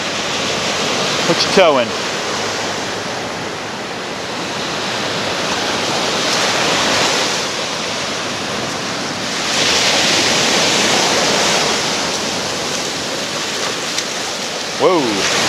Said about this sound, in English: You like the ocean? Nice, isn't it?